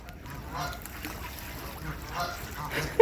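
Waterfowl honking and calling while being fed birdseed outdoors beside a fish pond, with geese more prominent than ducks, a steady noisy chorus of overlapping calls under faint background voices.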